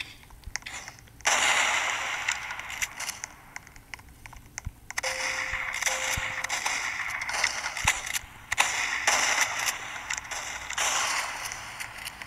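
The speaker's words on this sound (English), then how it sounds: "Why is my teammate shooting me?" Gunfire in the Roblox video game during a team match, sharp short bursts of shots and clicky mechanical effects scattered across the scene amid other game noises.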